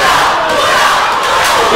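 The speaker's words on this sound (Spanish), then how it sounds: "Y la gente le vitorea a toda Flama de Plata" A crowd at a lucha libre wrestling event roars and shouts for a wrestler, a loud, dense wall of cheering that carries on without a break for the whole moment.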